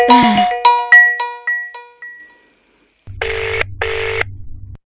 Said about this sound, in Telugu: రింగ్ అవుతుంటే తీయడేంటి?